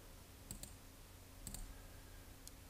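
Faint, sharp computer mouse clicks sound in a quiet room, a couple of quick double clicks spaced about a second apart.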